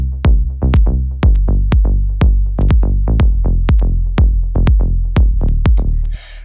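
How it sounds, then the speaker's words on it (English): Kick drum and a deep bass line play together in an electronic music mix, a punchy, rapid rhythmic pattern of thumping hits with sustained low notes, loud and alone without voices. "kick and bass together, sound like this."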